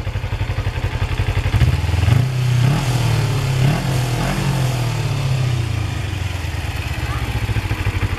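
A 2006 Kawasaki Ninja 250R parallel-twin engine idles steadily nearby, giving a low, even, throbbing burble with a slight swell partway through and faint mechanical clatter.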